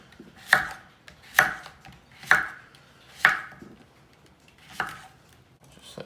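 Knife slicing zucchini into little round pieces on a cutting board, five crisp thuds spaced about a second apart with a brief pause before the last, close and alone.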